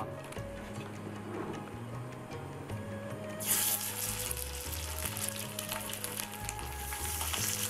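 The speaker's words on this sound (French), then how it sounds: "Faites frire les ailes à feu doux." Chicken wings fry over low heat in a pan. A quiet crackle swells into a stronger, brighter sizzle midway, with faint ticking and background tones underneath.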